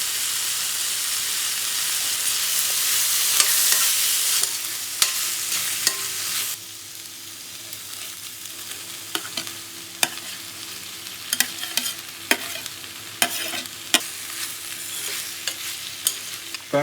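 Mushrooms being stirred and fried in a pan with pepper powder, a steady close sizzle with scraping stirring strokes and occasional clicks of the utensil, louder at first then settling to a softer fry.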